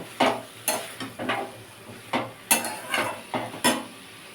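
Bottle gourd being stirred into masala in a pan, a series of about nine distinct spoon-scraping strokes at an uneven rhythm over a faint sizzle, close and quiet, no talk.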